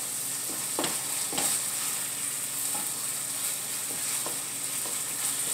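Fresh ground sausage browns in a frying pan with a steady, close sizzle and a few faint stirring scrapes, no talk over it.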